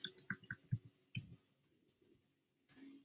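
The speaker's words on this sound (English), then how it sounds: "and then just click where it says Screencastify" A computer mouse clicks several times in quick succession, then once more, crisp and close, in a quiet room while a Chrome screen recorder is set up.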